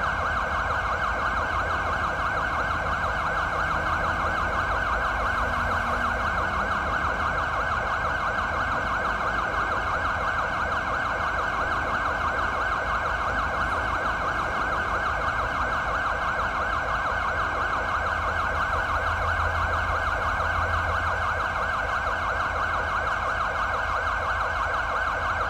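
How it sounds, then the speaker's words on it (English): Emergency vehicle sirens wail continuously and loudly in a roleplay video game, a steady unbroken siren tone running throughout with no talking. "Somebody secure the sirens."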